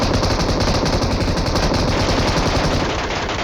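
An M2 heavy machine gun in PUBG Mobile fires a continuous, loud, rapid burst throughout, trailing off slightly at the end, with no talk.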